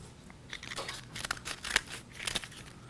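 Scissors cutting along a crease line through folded paper, a run of soft crinkling snips and rustles, close and fairly quiet, with no voices.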